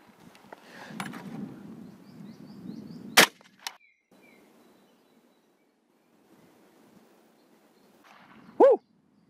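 A Saiga-MK 5.45x39 rifle fires a single sharp, loud gunshot outdoors at a 200 m range, with a second fainter crack shortly after and quiet wind and ambient noise around it.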